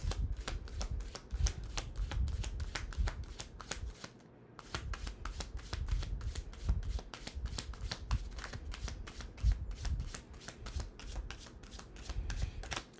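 Tarot cards are shuffled rapidly near the mic in a steady run of crisp riffling clicks, pausing briefly partway through, while a voice speaks a word.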